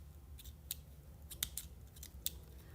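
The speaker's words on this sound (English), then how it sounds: "My scissors suck, guys." Several quick, dry scissor snips cut through crochet yarn in a quiet indoor room, spaced unevenly and fairly faint.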